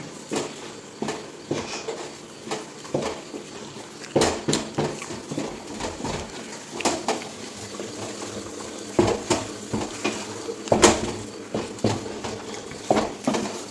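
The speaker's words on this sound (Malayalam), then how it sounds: "ചേട്ടൻ അവിടെ കപ്പപ്പുഴുക്ക് ഇളക്കുകയാണ്" Mashed tapioca being stirred in a pot, with repeated scraping and knocking of a utensil against the metal in an irregular rhythm, close and moderately loud.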